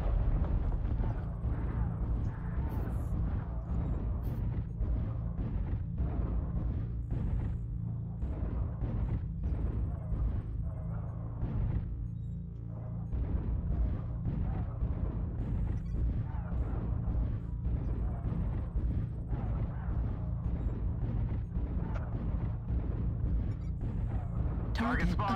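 Mech weapons firing in MechWarrior Online, a Hag Blood Asp fighting on Hibernal Rift: steady rumbling engine drone with repeated sharp weapon discharges, while a player talks throughout.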